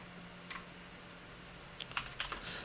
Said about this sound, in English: just typing in the live chat right now